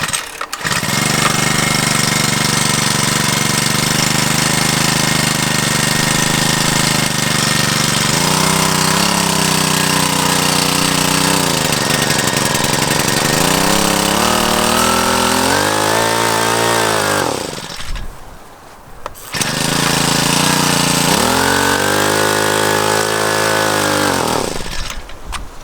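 A Generac CW10k portable generator engine running loud and steady after its first start, with a brief dip and falter in the middle before it picks back up and keeps droning with shifting pitch.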